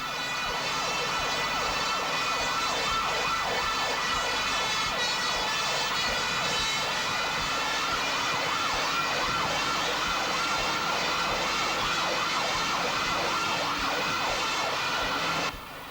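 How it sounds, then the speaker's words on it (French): Hong Kong fire engine sirens wail continuously through traffic, a loud, steady, rising and falling electronic tone that holds for the whole stretch, with a faint rumble of street noise beneath. "Les sirènes hurlantes permettent de se frayer un chemin dans la circulation."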